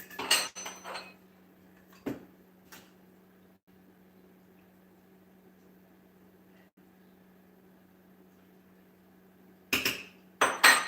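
A prepped baking pan is tapped to knock out the excess coating, giving a few sharp metallic knocks at the start, one more a moment later, then a quiet stretch and another burst of clatter at the end.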